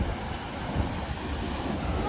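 Ocean surf and wind on a beach in Salinas, Ecuador, a steady broadband wash rushing close to the microphone with wind buffeting throughout.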